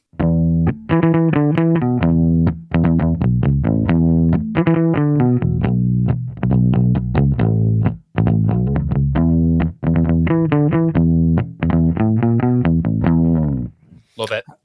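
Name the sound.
bass guitar played with pick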